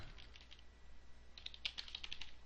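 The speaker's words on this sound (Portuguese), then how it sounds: "vou digitar a fórmula errada aqui só para vocês verem" Quick keystrokes on a computer keyboard as a formula is typed into an Excel spreadsheet, soft close clicks in uneven bursts that grow denser toward the end, with no voices.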